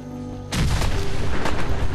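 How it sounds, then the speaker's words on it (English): A nuclear explosion in the video game Fallout 4 erupts suddenly after a quiet moment as a loud, broad rumbling blast that keeps roaring and crackling without pause. "That's a nuclear explosion."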